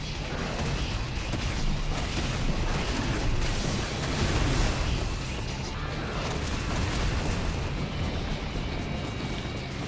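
Fireballs launched at an enemy in Final Fantasy XVI, dense booming blasts and crackling bursts layered into a loud continuous barrage with no pauses.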